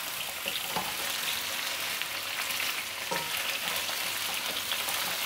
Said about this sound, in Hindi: अब हम इसको मीडियम हीट के ऊपर इस ऑयल में फ्राई करेंगे।